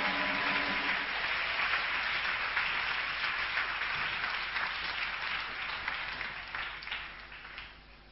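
A church congregation applauding in a hall, a dense, sustained wash of many hands clapping that slowly thins and fades toward the end.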